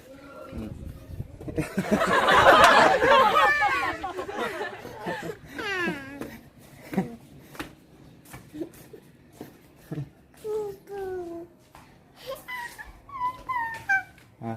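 A puppy whimpers and yelps in short, high, wavering cries, close by, mixed with people talking and laughing around it.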